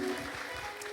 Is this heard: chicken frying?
no